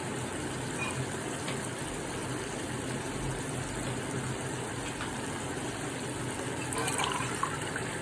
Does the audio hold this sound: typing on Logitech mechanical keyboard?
no